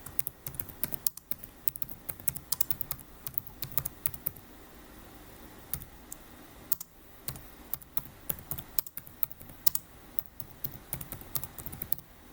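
Typing on a computer keyboard with rapid, uneven clicks and brief pauses, steady and close against a quiet background, with no one speaking.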